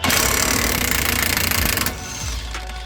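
Continuous loud rattling of a power impact tool working on the 30 mm axle nut of a Toyota MR2, running steadily for about two seconds before cutting off to a quieter hum.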